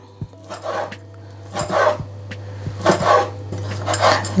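Knife chopping ingredients for chicken and potato patties on a board, a series of sharp clicking cuts in uneven bursts, close and moderately loud, with faint kitchen hum underneath.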